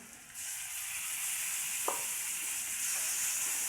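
Chopped tomatoes frying with onion and ginger-garlic paste in masala, a continuous close sizzle and hiss with one brief stirring scrape partway through, no talking.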